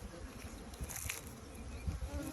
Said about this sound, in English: See this bee right here?